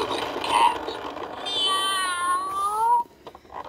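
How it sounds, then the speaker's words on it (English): A pull-string toy plays a recorded cat meow, a drawn-out tonal cry that rises and falls, after a moment of background clatter. "Now the cat. Listen to the cat."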